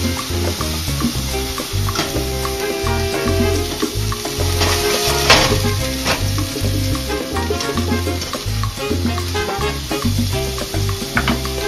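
Scallops sear in a very hot pan and get flipped with tongs, a steady sizzle and crackle running throughout under loud, rhythmic background music.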